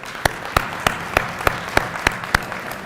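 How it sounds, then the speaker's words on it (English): Audience at a college athletics Hall of Fame induction ceremony gives steady applause for an honored guest, with a light wash of clapping cut by a regular sharp clap about every third of a second. "I'd like to have Dr. Joe Nazzaro please stand up for a round of applause"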